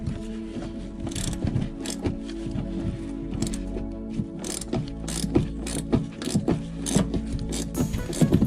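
A ratcheting wrench turns a bolt while Fox 2.0 shocks go onto a lifted 2004 Chevrolet Silverado 1500. It gives a close, steady run of rapid metallic clicks in bursts with a few brief pauses, and no one speaks.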